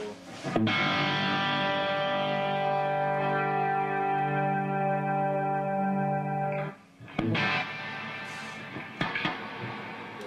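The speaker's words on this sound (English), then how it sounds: "You take that reverb sound way down." A sustained, shimmering electric guitar chord washed in heavy reverb rings for several seconds, then cuts off before a few brief strums and taps follow.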